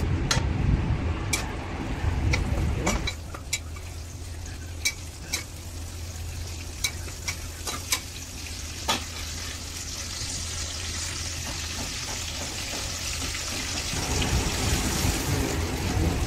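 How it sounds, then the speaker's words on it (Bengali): Cumin seeds, bay leaf and dried red chillies crackle and sizzle in hot oil, a bright continuous frying hiss with a few sharp pops, loud and close, with no talk. "এই যে তেল গরম হতে দিয়েছি, এর মধ্যে দিয়েছিলাম 1 চামচ জিরে, তেজপাতা, শুকনো লঙ্কা দিয়ে নাড়লাম একটুখানি।"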